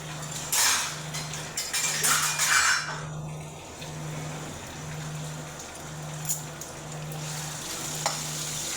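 Green chillies frying in a pan, with a steady soft sizzle throughout, louder crackling bursts early on, and a low regular hum pulsing underneath.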